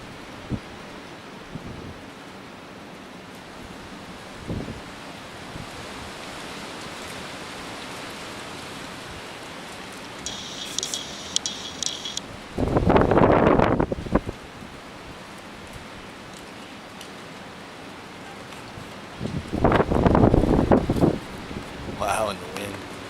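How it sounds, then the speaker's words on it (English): Wind storm on May 4, 2018, under a darkening sky: a steady broadband whoosh of wind throughout, broken by two loud, rough gust bursts of wind buffeting the microphone at close range. "Wow, and the wind."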